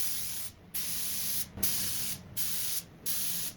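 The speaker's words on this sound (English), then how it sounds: "I carefully gave it a shot with a little guidance from the side." A spray gun lays base coat paint onto a wrecked BMW in five even, close hissing bursts, each about half a second to a second long, separated by short pauses.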